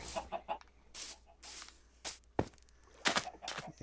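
Chickens in the video game Minecraft cluck in a series of short, bright bursts with brief gaps between them, moderately loud with a faint low hum underneath and no talking.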